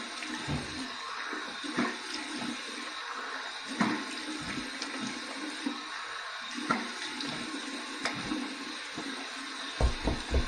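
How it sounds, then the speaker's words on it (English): Warm tap water runs steadily into a sink for a post-shave rinse, a continuous close splashing stream with small bursts and handling clatter, no talk. "Here's my warm water rinse."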